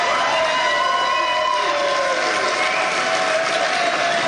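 A studio audience applauds the runner-up team at a cooking competition, and the clapping stays loud and steady throughout, with a tonal whine running underneath.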